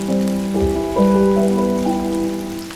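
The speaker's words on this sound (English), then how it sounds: "To sip my coffee, listen to the rain, and recalibrate what really matters." Steady rain patters as a soft, continuous hiss throughout, with gentle sustained musical tones layered above it.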